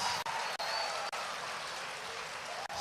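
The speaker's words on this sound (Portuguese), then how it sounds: "Dê uma forte salva de palmas para Jesus." Audience applause in a church service, a dense even wash of clapping sustained for about three seconds at moderate level, with brief dips.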